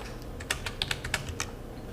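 Computer keyboard typing during billing software data entry: quick, irregular key clicks in a short burst of about eight strokes, close and moderately loud over a faint hum, with no voices.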